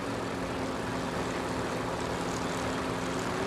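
A Yamaha Apex 300 hp turbocharged engine drives a STOL race plane at the STIHL National Championship Air Race, producing a steady, continuous drone with an even tone throughout, heard alone.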